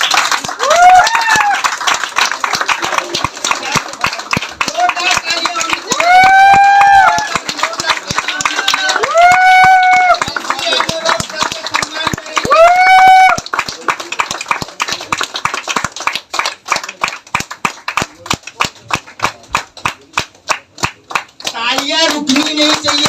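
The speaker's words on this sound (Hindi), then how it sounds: "आज सर का सम्मान करने के लिए आपकी जोरदार तालियों के साथ" An audience claps steadily through a motivational success seminar honoring Rizwan Siddiqui, with an amplified voice and tonal sounds running over the dense, continuous clapping.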